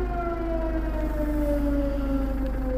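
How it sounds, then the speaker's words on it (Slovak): Air raid sirens wail across Kherson, Ukraine, a steady loud rising-and-falling tone that sustains without break and fills the whole stretch, with no talk over it. "Vítie sirén."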